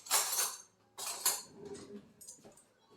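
Metal spoons handled at a kitchen counter, a few sharp clinks and rattles in short bursts, close and fairly quiet.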